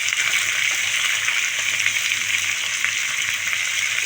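Chopped capsicum and onion fry in a pan for chilli chicken, giving a steady, close hiss and sizzle with no pauses and no talk.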